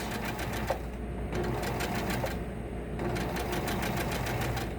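A sewing machine stitches a seam, pivoting on the needle-plate guide, in a steady close mechanical whir with rapid rhythmic needle clatter and two brief dips where the stitching slows.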